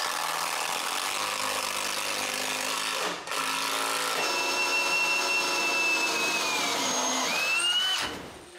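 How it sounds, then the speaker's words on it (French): A power screwdriver drives a screw through an aluminium threshold into the floor, whirring steadily and close by. It dips briefly, then strains on with a shifting pitch and cuts off near the end. "c'est le temps de visser la partie du bas au plancher. Comme on traverse l'aluminium, le seuil sera du même coup vissé au plancher."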